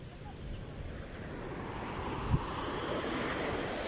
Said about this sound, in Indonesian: Ombaknya gede, guys.